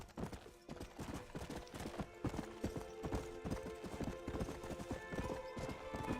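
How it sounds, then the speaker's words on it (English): Horse hooves clip-clop in a steady, rapid trotting rhythm in the Red Dead Redemption video game, played in Mexico, sounding continuous and moderately close with no talking over it. "I'm not a fan of this horse."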